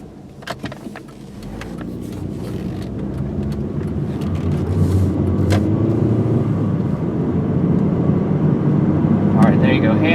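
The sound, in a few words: 2005 Kia Spectra EX driving on road during test drive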